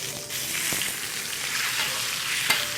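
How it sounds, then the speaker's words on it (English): Meat sears in a hot pan, giving a continuous bright sizzle and crackle with a few small pops, close and steady throughout. "looks like we got a nice sear going on the other side."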